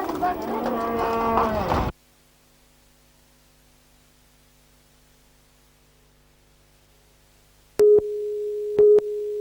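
Cattle low during an outback cattle drive in the Strait region, with a long, loud mooing bellow at the start, then near-silent hum, and two more short moos close together at the end.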